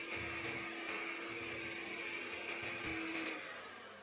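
Electric mixer running at low speed, beating butter with egg for a cake batter, a steady whirring motor drone with a faint tonal whine throughout, no voices.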